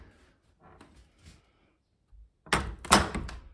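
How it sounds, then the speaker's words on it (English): An old door in a French château swings and shuts with a solid thunk and short rattle near the end, preceded by faint creaks and movement in a quiet room. "we'll see if this door still shuts"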